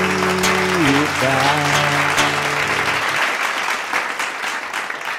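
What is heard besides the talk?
applause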